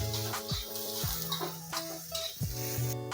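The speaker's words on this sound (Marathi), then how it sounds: "आता आपण टाकतोय कांदा। कांदा बी आपल्याला छान भाजून घ्यायचा आहे।" Onion frying in a pan for Khandeshi shev bhaji, a steady sizzle with stirring and scraping, joined by sustained tonal music throughout.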